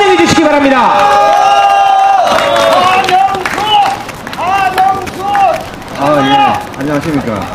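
A crowd at a Korean election-fraud lawsuit rally breaks into loud applause and cheering to welcome a speaker, a dense wash of clapping and shouts with voices and babble running through it.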